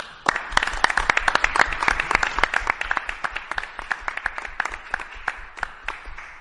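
Applause breaks out on a wine podcast, a dense patter of individual hand claps from a small group, close and fairly loud, spread evenly over several seconds with no talk.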